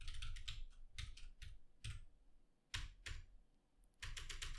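Keys clatter on a computer keyboard in uneven bursts of quick clicks with short pauses between, fairly close and alone with no voices.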